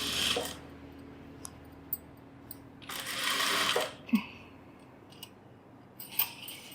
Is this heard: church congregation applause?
no